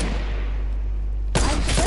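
Gunfire from an arena shooter video game with sniper rifles: a noisy stretch of game ambience, then a sudden loud burst of shots near the end.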